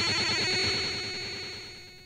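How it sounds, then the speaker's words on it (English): Commodore 64 data cassette played back through a tape deck, giving dense, harsh warbling data tones with a steady high whine, continuous and loud, slowly fading toward the end with no voices. "If you listen to a computer tape, you'll hear something like this."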